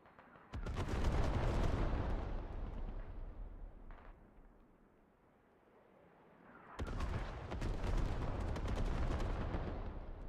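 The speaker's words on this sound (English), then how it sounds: "Down comes the artillery." Heavy artillery barrages pound down in the Squad military shooter game, a dense roar of overlapping booms and crackling blasts that swells, fades briefly in the middle, then erupts again loud and close.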